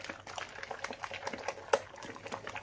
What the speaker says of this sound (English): All right, let's give this a stir.